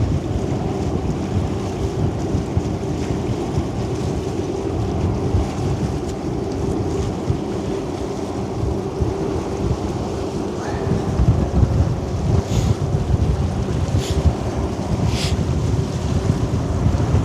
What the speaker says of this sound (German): Wind und Welle.